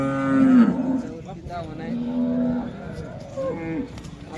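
A large cow moos loudly and close by at a cattle market for cows and heifers, with several long low calls over a steady crowd murmur.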